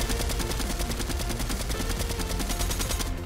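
Sustained rapid automatic gunfire from a weapon in Fortnite, a dense, loud, evenly spaced stream of shots continuing without pause, close and alone with no speech.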